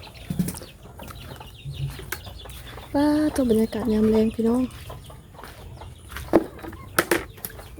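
A few chickens cluck loudly in a short burst, nearby, amid quieter farmyard noise and brief speech.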